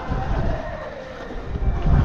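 A boat moves across the water on a trip to Shimpla Point, giving a continuous low rumble with rushing water and wind noise. No one speaks.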